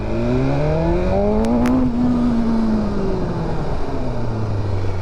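A BMW S1000RR motorcycle engine revs up, its pitch climbing sharply and then easing down into a lower drone, with a couple of brief clicks partway through and no talk.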